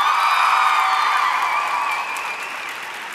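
Applause from a graduation ceremony audience, with some cheering and whoops mixed in, loud at first and then slowly fading.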